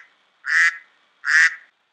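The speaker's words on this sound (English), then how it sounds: "Quack, says the mother duck." Two loud, nasal duck quacks, evenly spaced about a second apart, close and clean against silence.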